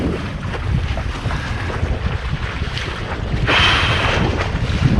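Strong wind rushes over the water around a foiling board or boat, buffeting the microphone in a steady, loud roar that swells further toward the end, with no voices.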